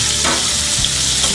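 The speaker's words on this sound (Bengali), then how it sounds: "তেল গরম হয়ে এসেছে, এবার আমি পেঁয়াজ কুচিগুলো দিয়ে দিব, কাঁচামরিচ কুচিগুলো দিয়ে দিব।" Chopped onions and green chilies hit hot oil for bitter gourd bhaji, a loud, close, continuous sizzle with brief stirring scrapes and no talking.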